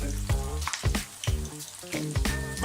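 Eggplant slices fry in oil, a quiet crackling sizzle with repeated low bubbling pops and clinks, close and fairly soft.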